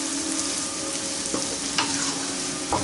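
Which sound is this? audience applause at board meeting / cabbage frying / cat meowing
cabbage frying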